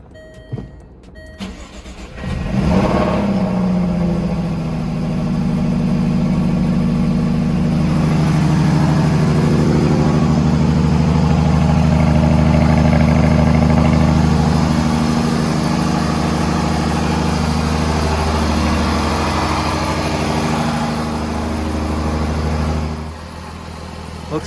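A Jaguar F-Type fresh from a spark plug change cranks and fires up loudly, then settles into a steady, rumbling idle close to the microphone for about twenty seconds before cutting off.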